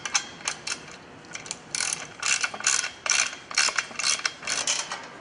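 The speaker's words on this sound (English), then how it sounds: "Now I'm going to go ahead and tighten all the fasteners." Ratchet wrench tightening fasteners on a Kolpin X Factor ATV snow plow mount, giving repeated bursts of quick metallic clicking strokes close by, alone with no talk.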